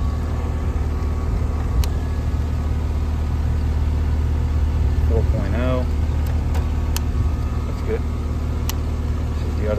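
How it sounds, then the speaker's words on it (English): A Carrier heat pump's compressor and outdoor fan motor run steadily during a spring A/C tune-up, a continuous low mechanical hum with a few brief clicks and faint voices in the background. "that'll bring on our compressor. All right, we are running."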